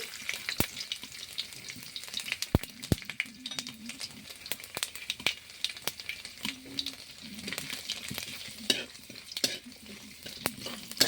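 Black mustard seeds, whole cumin and chopped garlic sizzle steadily in hot oil for a sweet masoor dal, a dense close crackle punctuated by sharp pops and scraping stirs against the pan.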